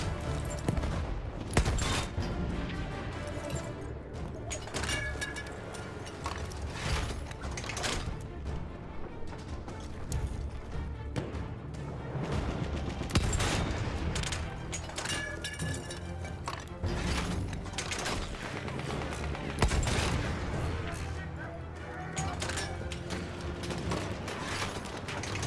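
Battlefield 1 artillery fire and battlefield combat make a dense, continuous roar of blasts, crashes and scattered gunfire, fairly faint and steady throughout, with no clear speech.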